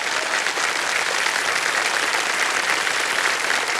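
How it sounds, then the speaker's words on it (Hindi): A studio audience on the KBC quiz show applauds a contestant, a dense, loud, even burst of clapping with no talk over it. "तालियां बज जाए इनके लिए।"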